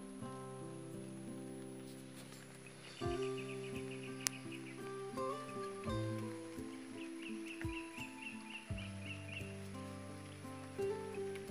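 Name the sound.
light rain falling on farm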